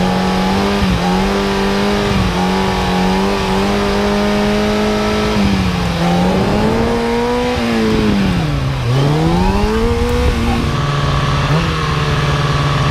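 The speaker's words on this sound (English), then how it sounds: "this is me riding out a little bit longer wheelie" A motorcycle engine held at steady revs while the rider balances a long wheelie, the pitch dipping and swelling as the throttle is worked, loud and close throughout.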